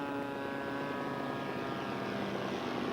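Steady droning whine of a 22-pound, 92-inch-wingspan scale model airplane powered by a Super Tiger 3000 engine, flying at moderate distance with a constant buzzing pitch and no talk.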